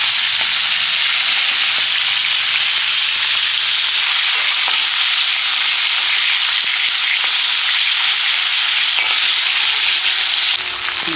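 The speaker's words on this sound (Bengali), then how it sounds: "মাছটা ভাজা হয়ে গেছে" Pomfret fish frying in hot oil in a pan gives a loud, close, continuous sizzle with crackling pops throughout, no talking.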